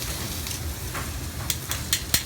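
Vegetables for fajitas sear untouched in a hot pan with a steady close sizzle. A few sharper crackles and pops break through near the end.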